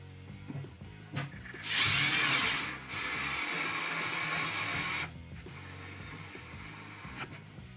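A power drill drives a screw into a wall anchor while hanging a shelf, with one loud high whine followed by a longer steady lower run, and small clicks and handling noises around it.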